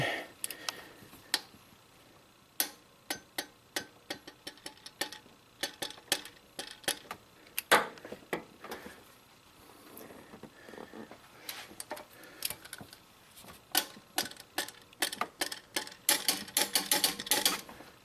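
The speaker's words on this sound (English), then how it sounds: "Right now I want to measure the torque. How much torque do we need to return this bolt back to its original position?" Ratchet wrench clicking on a Subaru engine bolt during teardown, while torque is measured, with bursts of rapid ticking clicks separated by pauses, growing denser and louder toward the end.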